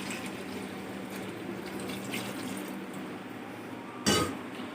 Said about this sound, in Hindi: अब इसमें हम डालेंगे पानी, इसको पकने के लिए छोड़ेंगे।